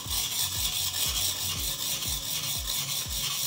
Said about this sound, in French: il n'y a qu'avec un aiguiseur diamanté que vous allez pouvoir le faire. Donc, une pointe cassée se reprend sur le dos de la lame.